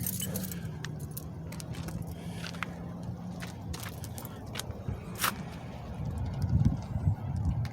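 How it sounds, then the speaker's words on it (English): A bunch of keys jangles and clinks close by outdoors in winter, bright metallic rattles coming in short bursts with faint shuffling and rustle, louder toward the end; no talk. "Let me get my keys out."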